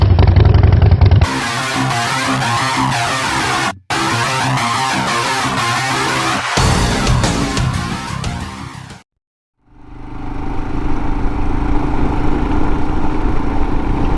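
Royal Enfield Himalayan motorcycle being ridden, its engine droning steadily with rising and falling revs and wind rush, cutting out briefly twice before a quieter, steady engine hum resumes.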